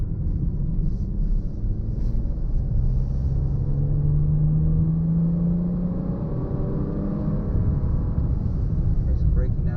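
A Bentley Bentayga Speed rumbles at low pitch from inside the cabin while driving, with a steady road drone and a brief tonal swell as it slows under braking.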